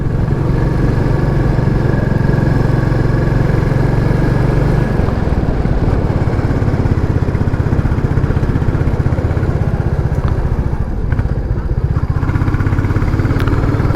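Royal Enfield Classic 350 motorcycle idling steadily nearby, a continuous low thumping engine drone holding for the whole stretch with a slight change in tone partway through, no talking.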